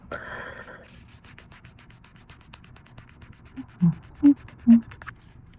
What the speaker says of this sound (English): now we're going to smooth the nail.